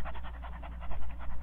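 A person imitates a panting dog, breathing fast, rhythmic and close, with around a dozen quick huffs.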